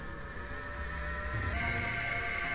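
A sound glyph spell cast in the video game Soul Reaver gives a sustained, bright, droning tone with steady layered pitches that shift upward partway through, heard alone with no talk.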